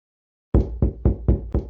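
Five heavy knocks on a door, evenly spaced thuds in quick succession after a moment of silence, loud and close with booming low impacts, no voices.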